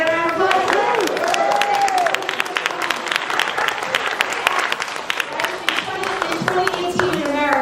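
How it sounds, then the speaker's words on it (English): A crowd at a 2018 congressional reception for Opportunity Starts at Home breaks into a sustained round of applause, dense clapping with some cheering filling the room steadily for several seconds. "can I get a round of applause?"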